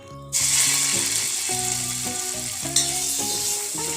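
Chhena paste hits hot ghawa ghee in a kadai over a low flame and sizzles loudly and steadily, with occasional stirring scrapes and faint background music underneath.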